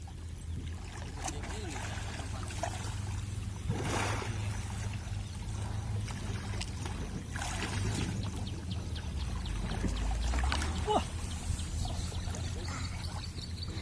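River water flowing steadily in a continuous broad wash, with brief splashes and faint voices of people playing in the water in the background.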